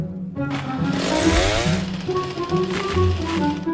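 Chopping wood in the game 99 Nights: a gritty, rattling mechanical buzz swells and falls over a few seconds, loud and close, with no voices.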